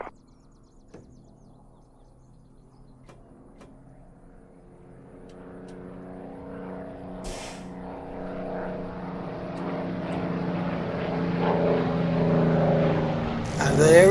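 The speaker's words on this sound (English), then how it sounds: "Warhawk and a Spitfire. What a lovely sight." Propeller aircraft engines, a Warhawk and a Spitfire flying in the DCS combat flight simulator, drone steadily and grow louder as they approach, building to a strong roar near the end.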